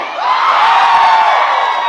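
A crowd at a political rally shouts together in one loud, sustained roar of voices lasting under two seconds.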